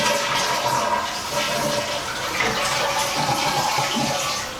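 Toilet in a second-floor guest bathroom flushing with a Korky lever, a close, loud rush of swirling water that holds steady for several seconds and then begins to fade, with no talking.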